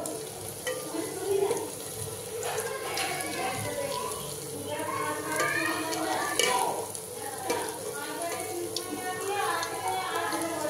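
Ridge gourd peels fry in a pan, a steady soft sizzle with occasional stirring scrapes running under a voice.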